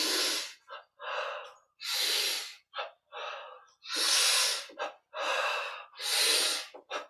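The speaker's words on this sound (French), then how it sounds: "Et inspire" Deep breaths during a guided yoga and meditation breathing exercise, a series of forceful, close, hissing inhalations and exhalations, some long and some short, separated by brief silences.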